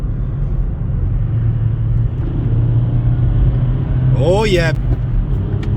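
A VW Golf V with a power fault drives under a steady low engine drone in third gear, building gradually, as someone speaks briefly near the end.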